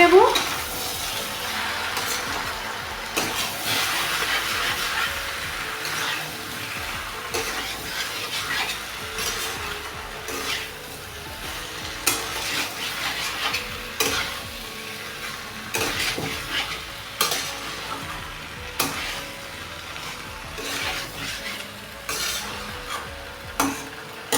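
Papaya chicken seasoned with Kashmiri chilli powder and salt being stirred in a pan, a steady sizzle with repeated scraping and clinks of a utensil against the metal, close and continuous with no talk.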